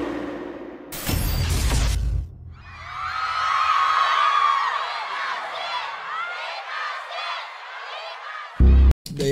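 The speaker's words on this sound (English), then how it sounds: "They're yelling his name." A concert crowd at a live show for a pop singer yells and screams in a sustained, swelling wave of cheering that fills most of the moment, after a brief burst of noise at the start and a sharp bang near the end.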